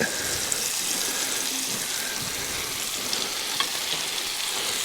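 Vegetables frying in a pan at a winter campsite give a dense, steady crackling sizzle, close and even throughout, with a few faint clicks and no voices.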